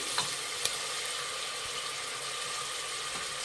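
Beans, carrot and peas stir in a hot pan, a soft steady sizzle with a couple of faint scraping clicks from the spoon, close and quiet.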